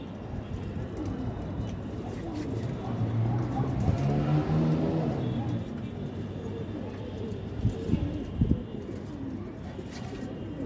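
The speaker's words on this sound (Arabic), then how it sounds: "يعني في حمام في السما كتير جدا اهو" Pigeons coo close by while a rush of fluttering wings passes over, set against a low outdoor rumble, with a few sharp flaps near the end.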